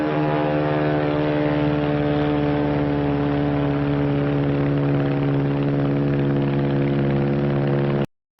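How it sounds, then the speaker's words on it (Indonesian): A Mitsubishi A6M Zero fighter plane flies with a steady, loud droning propeller engine and a strong even hum that holds for about eight seconds before cutting off abruptly. "That's a Zero, the real McCoy."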